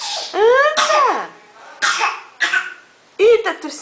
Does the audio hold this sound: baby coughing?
yes